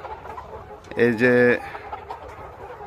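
Layer hens on a chicken farm give a short clucking call that rises clearly for about half a second over a low background murmur, with someone speaking briefly.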